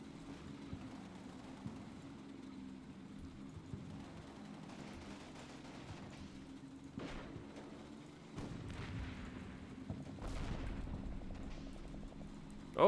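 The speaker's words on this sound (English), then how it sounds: "Oh, they're firing Panzer Shreks at us." Panzerschreck rockets fire in a World War II tank battle game, several whooshing blasts and booms rising over a low rumbling battlefield bed, the heaviest bursts landing toward the end.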